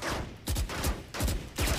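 Gunfire in Valorant, four rapid loud shots with a sharp crack on each, evenly spaced in quick succession and close up.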